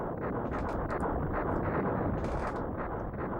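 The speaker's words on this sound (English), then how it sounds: "Down it goes. Big explosion, loop-de-loop." An attack carrier exploding in the SNES video game Starfox 2, a dense, loud, rumbling burst of crackling blasts that keeps going without pause.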